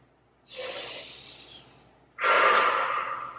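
Two deep breaths taken during a wide-legged yoga stretch, each a long airy inhale or exhale, the second louder and fuller, close and clear with no talking.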